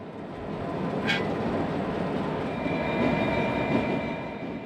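A light SW1500 switcher locomotive, number 303, rolls back into a steel mill plant yard with a steady, continuous rumble and a brief high wheel squeal early on, with no voices.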